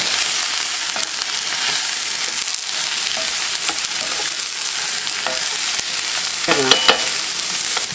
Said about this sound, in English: I'm going to just put it in with my cabbage in this little stir fry, smothered down side dish to go with our fish